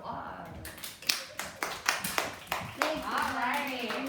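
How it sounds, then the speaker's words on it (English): A kindergarten class of children claps in a short round of applause, a burst of quick, uneven hand claps that thickens into a steady patter, heard close with little talk. "Give yourself a round of applause."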